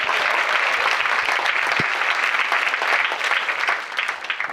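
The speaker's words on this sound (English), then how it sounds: "I think that deserves another round of applause," An audience at a film premiere screening claps in sustained, dense applause that fills the room, holding steady before easing off slightly toward the end.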